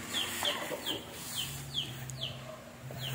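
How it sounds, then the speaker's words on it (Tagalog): Chickens cluck in a backyard pen in a steady run of short, repeated calls, fairly close but quiet over a low background hum. "Lalagyan natin mga kabakyard ng manok."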